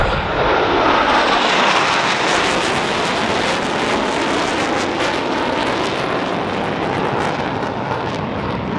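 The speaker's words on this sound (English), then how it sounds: "As each aircraft accelerates to 500 miles per hour, they'll perform a half." Loud, continuous roar of U.S. Navy Blue Angels jet aircraft flying a demonstration at a military airshow, a broad steady rumble with wind buffeting the microphone throughout, no voices.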